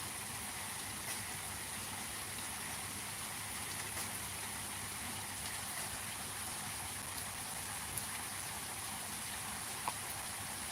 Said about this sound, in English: So now it started raining harder again